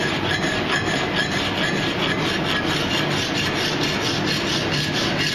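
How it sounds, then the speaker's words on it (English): Steel file stroking diagonally across a small metal tasting spoon, a colonial-style blacksmith piece: steady close rasping scrapes repeating in a regular back-and-forth rhythm, no voices. "filing across the surface. Doing it on a diagonal because it's convenient more than anything."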